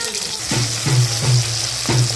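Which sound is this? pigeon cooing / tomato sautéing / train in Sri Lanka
tomato sautéing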